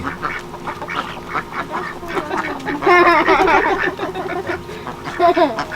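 Ducks quack repeatedly nearby in a lively, overlapping chorus, with a louder burst of quacking midway and more toward the end.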